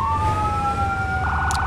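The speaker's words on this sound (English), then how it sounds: "So turn on emergency lights, siren, and follow this fire engine." A fire engine siren in Firefighting Simulator - The Squad holds a long steady tone that slowly falls, then shifts into a fast warbling pattern, loud over rumbling engine noise.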